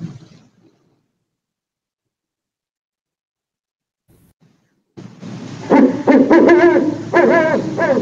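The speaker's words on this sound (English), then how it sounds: "owl." An owl hoots: after a long near-silent stretch, a loud, close run of hooting calls lasts about three seconds.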